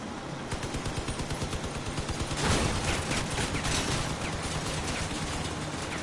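Sustained volleys of vehicle-mounted weapon fire in the combat game Crossout, loud and continuous with a heavier burst midway, rattling shots layered over engine rumble, no voices.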